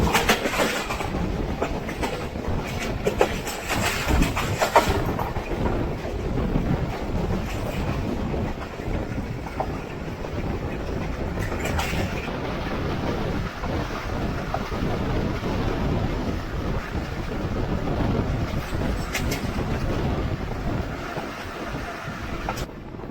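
Economy-class passenger train running on rails from Rawalpindi toward Gujjar Khan in rainy weather, a steady, loud rumble with rhythmic clickety-clack of wheels over joints, heard from inside throughout with no talking.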